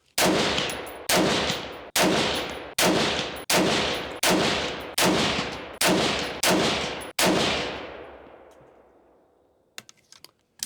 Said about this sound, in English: we're gonna start with the LaRue and send 10 rounds.